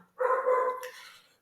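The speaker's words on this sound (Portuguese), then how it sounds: "Tem um cachorro latindo aqui" A dog lets out a single short bark, then a trailing yip, at moderate distance and fairly faint, with otherwise quiet surroundings.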